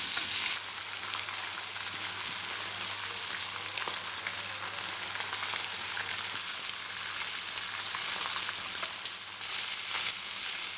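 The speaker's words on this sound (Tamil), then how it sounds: "மீனெல்லாம் இப்போ நல்லா வறுபட்டுருச்சு." Andhra-style vanjiram fish frying in a pan gives a loud, continuous close sizzle with crackling spatter that holds steady throughout, with no voices.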